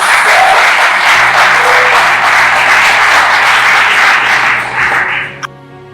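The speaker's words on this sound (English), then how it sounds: "I think MTN deserves a round of applause." Loud, sustained applause from an audience at an MTN Champs press conference, dense clapping that holds steady before tapering off near the end, with a low hum and a brief knock as it fades.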